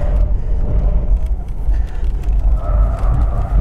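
Porsche Taycan 4S electric sports car with Performance Battery Plus driving, a continuous low road rumble and tire noise heard from inside the cabin, with faint whining tones rising toward the end.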